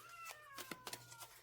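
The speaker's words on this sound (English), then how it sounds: "Sorry if you hear my cat crying." A house cat meows repeatedly for attention, several short plaintive cries in quick succession, faint and somewhat distant over a quiet indoor hum.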